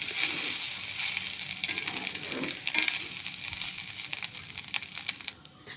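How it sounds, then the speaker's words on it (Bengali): Cooked rice being stirred together with toppings in a hot frying pan, a continuous soft sizzle with scraping and clinking from the utensil throughout. "এবার এগুলো টপিংসগুলোর সাথে ভাতটা মিক্স করে নেব।"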